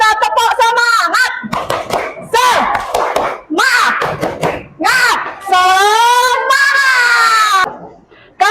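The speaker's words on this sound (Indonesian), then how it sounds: "ayo kita tepuk semangat" A class of children doing the tepuk semangat chant, rhythmic bursts of clapping mixed with loud shouted young voices, close and energetic throughout.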